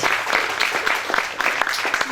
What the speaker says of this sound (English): can I get a round of applause for all of our IT guys